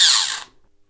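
Loud, harsh grinding whir from an airsoft AEG as its motor pinion fails to mesh with the bevel gear, lasting about half a second before cutting off into near silence.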